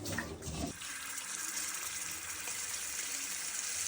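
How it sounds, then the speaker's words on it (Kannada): Rice is rinsed in water for jeera rice in a home kitchen, a faint steady run of water with a brief splashing swirl at the start, then a soft continuous hiss. "ಈಗ ನೆಕ್ಸ್ಟ್ ಸ್ಟೆಪ್, ಅಕ್ಕಿಯನ್ನು ತೊಳೆದುಕೊಳ್ಳಬೇಕು."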